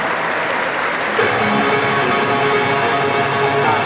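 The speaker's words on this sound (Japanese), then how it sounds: "大阪市の松井市長に今一度大きな拍手をお願いいたします。" An audience at the Osaka Motor Show breaks into sustained applause, a dense, steady clapping from the crowd that rises slightly after a second and continues without talk.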